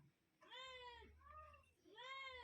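A cat meows twice, clear and drawn-out, over a low steady background hum.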